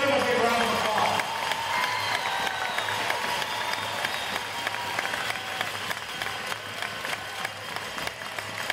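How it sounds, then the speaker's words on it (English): A crowd at a hockey team's championship cup celebration breaks into applause and cheering, loud at first and then settling into sustained clapping with voices mixed in. "Let's give them a big round of applause."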